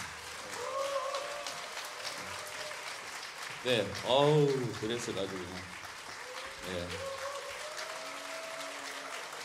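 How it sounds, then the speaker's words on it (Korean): Applause from a matinee concert audience welcoming a pianist at a hall, a soft continuous patter of clapping running under a man's speech throughout. "박수 좀 더 크게 쳐주세요"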